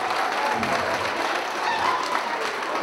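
A comedy club audience at a stand-up show claps in a continuous, moderately loud wash of applause with a few whoops, no one speaking over it.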